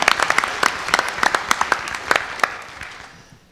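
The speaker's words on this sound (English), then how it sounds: "Applause." An audience at a panel discussion on racial profiling applauds, a short burst of scattered hand claps that fades out over a few seconds.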